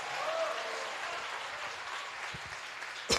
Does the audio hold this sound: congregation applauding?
yes